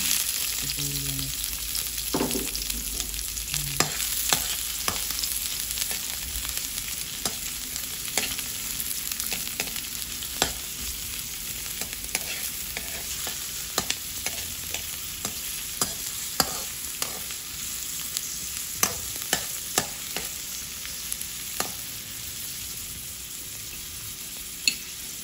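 Chopped onions sautéing in a little hot oil in a pan, a steady close sizzle with scattered crackles and pops running continuously, plus occasional clinks and stirring scrapes.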